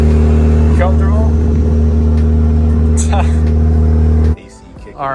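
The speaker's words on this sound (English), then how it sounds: "He's revving the car up. Do it again." A turbocharged Mazda Miata idles loud and close with a deep steady droning hum for several seconds, then cuts abruptly near the end, while people talk over it.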